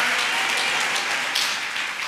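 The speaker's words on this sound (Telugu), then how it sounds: "కొట్టు చప్పట్లు ప్రభుకి గట్టిగా." A church congregation at a Telugu worship service claps loudly and continuously, a dense, steady wash of applause with no pauses from start to finish.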